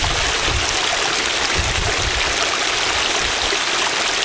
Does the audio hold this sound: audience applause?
no